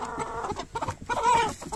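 Desi chickens and roosters cluck and squawk in a crowded coop, a busy, close jumble of overlapping bird calls with no clear talk.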